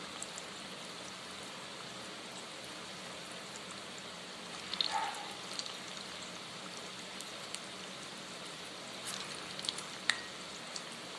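Urad dal batter fries in hot oil in a pan for Chettinad-style paal paniyaram, giving a soft, steady sizzle with occasional small pops and crackles, quiet and close, with no talking.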